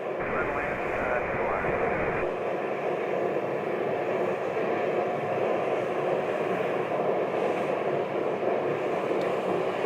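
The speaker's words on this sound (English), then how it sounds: "There's a citation latitude model, 680." Cessna Citation Latitude 680 business jet heard as a steady, loud broadband engine roar that continues throughout, with a brief lower rumble at the start.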